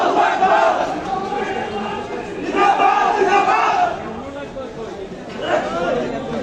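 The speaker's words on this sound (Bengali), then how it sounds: "স্লোগান দিচ্ছেন" Jamaat-e-Islami party activists outside their headquarters chant slogans as a loud crowd, voices rising in rhythmic surges roughly every few seconds over constant background chatter.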